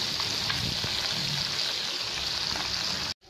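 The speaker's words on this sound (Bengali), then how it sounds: "এখন মাছটা আমরা ভেজে নিচ্ছি।" Tengra fish frying in hot oil, a steady dense sizzle and crackle with small pops, continuous and close before cutting out abruptly near the end.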